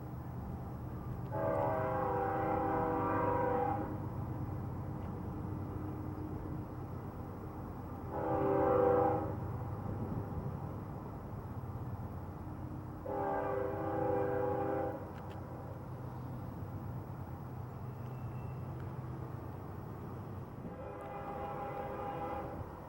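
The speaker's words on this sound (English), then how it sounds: "A Burlington Northern Santa Fe train whistles for the dirt road crossing in the curve." BNSF freight train sounding its horn for a dirt road crossing on Sullivan's Curve in Cajon Pass: four separate chord blasts, long, short, long, long, moderately distant over a low rumble of the moving train.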